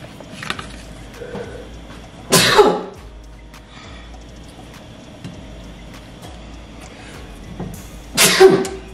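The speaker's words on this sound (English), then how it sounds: "Ooh, I gotta sneeze." Two sharp, loud sneezes from a person, near the mic, one at about two seconds and another near the end, with quiet kitchen background between them and no speech.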